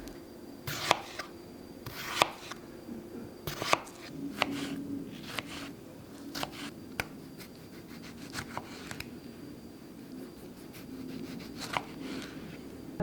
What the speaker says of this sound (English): now I'm gonna cut up the vegetables for the actual pitas. So we do cucumber, red onion, and tomato